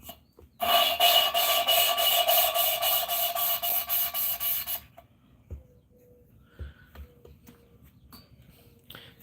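Valves being lapped into the seats of a third-generation Hemi cylinder head give a loud, steady rasping grind. It runs close by for about four seconds in quick rhythmic strokes, then stops, leaving faint clicks and handling taps.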